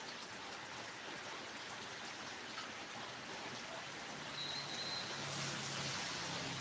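Steady rain falling outdoors, a constant soft hiss with a faint patter, distant and low in level, with no talk.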